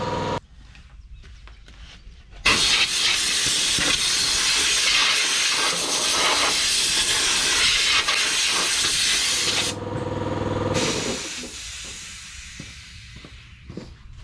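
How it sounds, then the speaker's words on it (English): A large air compressor starts up with a sudden loud, steady broadband hiss that runs for several seconds, then drops to a lower mechanical hum and tapers off, heard alone without talk. "Gonna fire up the big compressor."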